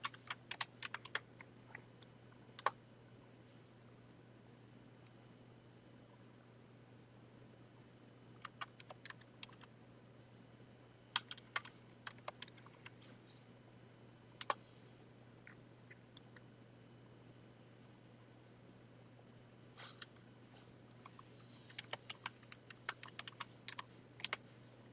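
Fingers type words on a computer keyboard, giving quiet, irregular bursts of key clicks with short pauses between them, heard alone in a still room.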